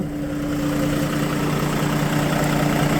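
The engine of a 2015 Kia New Granbird Blue Sky bus idles steadily and close by, a deep continuous rumble with a constant low hum and faint vibration, no voices.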